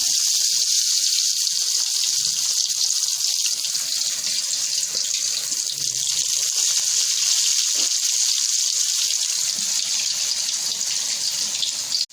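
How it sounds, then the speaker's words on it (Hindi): Lachha pakora deep frying in hot oil, a steady, loud hiss and crackle of sizzling batter that runs unbroken close to the pan with no one speaking. "अब हम इसको इसके अंदर जो है डीप फ्राई करेंगे।"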